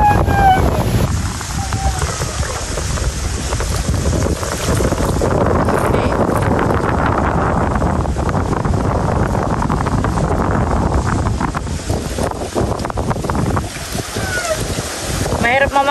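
Strong wind roars steadily at the coast, rumbling against the microphone alongside churning sea water, with faint voices now and then.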